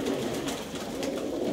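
Pigeons kept by a rooftop pigeon fancier coo steadily and close by, a continuous low murmur of several birds with no voices over it.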